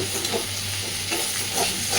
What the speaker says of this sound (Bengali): যাতে কড়াইতে লেগে না যায় মাঝে মধ্যে একটু নাড়াচাড়া করে দেব